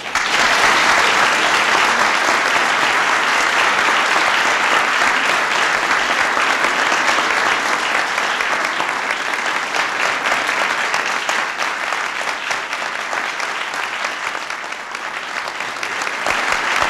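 Sustained audience applause for President Reagan at a White House event on technology and the disabled, a dense, steady roar of clapping that holds for the full stretch with no talk.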